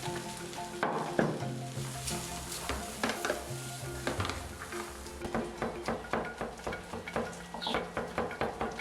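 Corn kernels frying with onions in a pan, a close, continuous sizzle broken by repeated scraping stirs and the clink of a utensil against the pan, with no voices.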